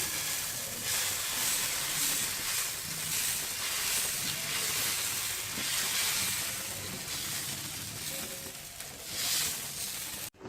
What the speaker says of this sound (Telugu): తయారు చేసుకున్నటువంటి పిండిని దోశలా వేసుకుందాం